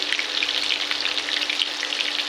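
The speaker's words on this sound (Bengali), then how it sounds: "এবার এগুলোকে ফ্রাই করব, লাল লাল হয়ে গেলে" Battered lote fish sizzling in hot oil, several pieces frying together with a constant crackle and fine popping spatters, close and steady.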